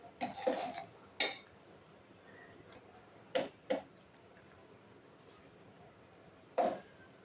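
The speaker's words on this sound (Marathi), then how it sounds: "वाटण असं मिक्स करून घ्यायचं." A spoon stirs and clinks against a cooking pot while spice paste is mixed into Agri-style chicken handi: a few sharp, close metallic knocks and scrapes scattered over a quiet background.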